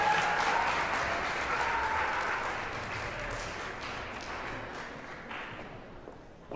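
Audience at a high school spring orchestra concert applauds and cheers in a dense, sustained wash of clapping that gradually thins and fades over several seconds.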